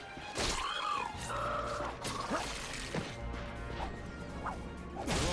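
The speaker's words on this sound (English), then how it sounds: "Look at him smashing crates." Crates smashing in Ratchet and Clank (2016), a run of sharp breaking crashes and thwacks spread across the stretch over game music and effects.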